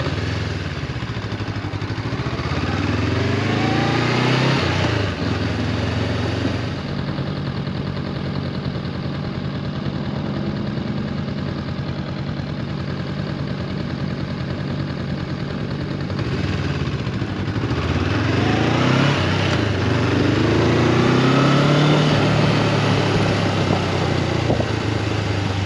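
A Yamaha Champ motorcycle engine runs steadily and close by, its clattering mid-pitched drone swelling with revs near the start and again toward the end, with no voices over it.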